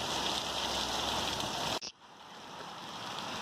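Hard rain from a pop-up afternoon thunderstorm in Green Valley hisses densely and steadily, briefly cut off by a sudden break before the downpour returns, close and loud with no voices.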